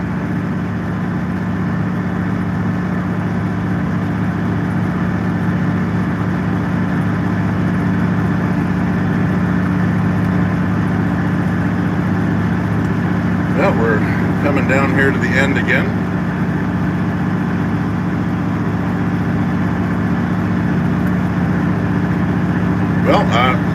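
Steady low rumble of a 1982 John Deere 8850 four-wheel-drive tractor with a V8 engine, heard from inside the cab, running continuously throughout while someone talks over it; brief higher rattles or clicks appear near the middle and end.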